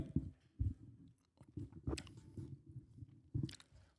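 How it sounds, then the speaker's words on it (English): Close, wet chewing and biting with an echoing, roomy quality, irregular bursts of mastication repeating over a few seconds with no talking. "motherfuckers chewing is echoing right now"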